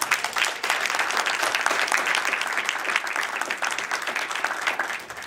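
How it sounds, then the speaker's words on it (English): A full, steady round of applause in a city council chamber honoring a young chess champion, dense clapping from the gathered audience holding evenly for several seconds without talk. "Give him a round of applause."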